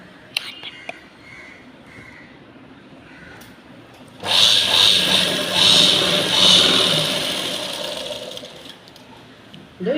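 Sewing machine stitching a skirt's tuck during a tailoring class, starting midway and running as a loud, steady whirring hum for several seconds before easing off, with faint whispering beforehand.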